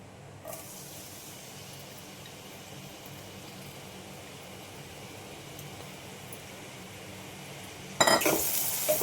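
Chopped banana flower frying in oil with onion added, a low steady sizzle, then a loud sudden burst of hissing as the onion drops in near the end.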